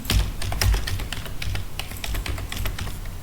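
Fast typing on a computer keyboard while writing text in MS Word 2016, with quick irregular key clicks and a few heavier thumps, close and clear with no speech.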